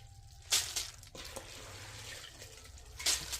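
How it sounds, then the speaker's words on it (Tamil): Coriander seeds being washed in water, with splashy swishes and gentle pouring close by, two brighter splashes standing out over a low steady hum. "நான் இப்படி தான் மல்லி வந்து கழுவி காய வைப்பேன்."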